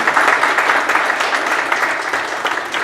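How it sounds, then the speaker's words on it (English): Loud, dense applause from a large crowd at a Black History Month event at Naval Air Facility Atsugi, a continuous wash of clapping hands heard up close throughout. "How about a round of applause for the Multicultural Committee?"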